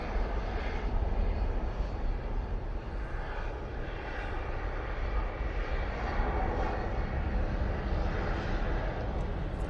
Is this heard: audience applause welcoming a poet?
no